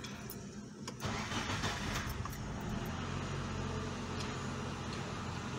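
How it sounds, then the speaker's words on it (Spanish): A Nissan Sentra B13 cranks and starts cold after fresh oil, a short whirring crank followed by the engine catching and settling into a steady, rough idle close by. "vamos a encender el carrito a ver ahora sí ya con su aceite nuevo"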